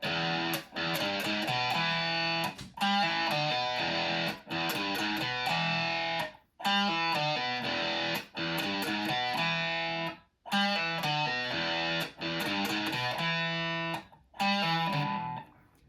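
Heavily distorted electric guitar, played through a distortion pedal, plays loud sustained hard rock chords in bursts, with brief silent gaps between phrases.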